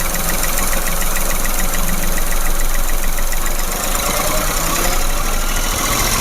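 A low-mileage car engine held at about 2000 rpm, running with a rough, knocking noise: a loud, steady, close mechanical drone with a harsh rattling texture that continues without a break.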